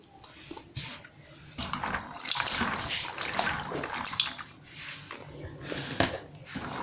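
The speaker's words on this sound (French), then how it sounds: "Voilà nos graines d'arachide revitalisées que nous sommes en train de retremper dans l'eau" Soaked, revitalised peanut seeds rinsed by hand in a basin of clean water, with close splashing, sloshing and squishing that comes in uneven bursts and swells louder midway, no talking.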